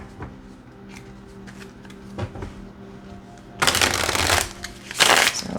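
Oracle cards being shuffled by hand, a few soft riffles and taps at first, then two loud, crisp bursts of rapid card flicking close up, with no talking.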